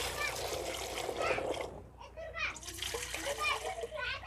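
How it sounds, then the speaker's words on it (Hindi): Indian gooseberries (amla) being washed by hand in water, with faint splashing and sloshing under a voice and an adult talking close by. "अब धो देता हूँ"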